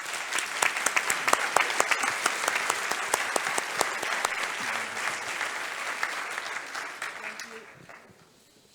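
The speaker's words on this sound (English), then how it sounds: "I think they deserve a round of applause." Audience applause follows a ministerial roundtable panel at an energy, oil and gas summit, with sharp individual claps over a broad wash that dies away near the end, and a faint voice underneath.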